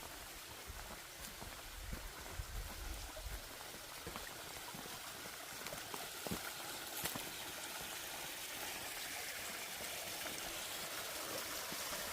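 A mountain stream flows through a valley near a deserted village, giving a faint, continuous rush of running water heard from a distance, with no talking.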